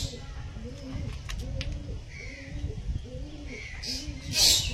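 Kalanka pigeons coo in a steady rhythm of five or six low, rolling calls, a pair sitting on eggs nearby, with a faint chirp and a brief rustle near the end.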